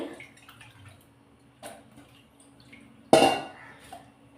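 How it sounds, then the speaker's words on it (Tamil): Washed, cut bottle gourd pieces drop into a pot with one sudden wet splash and clatter, after a few quiet clinks and drips; the sound is close and brief. "இதில் நான் கட் பண்ணி கழுவி வச்சுருந்த சுரைக்காயும் போட்டுக்கிறேன்"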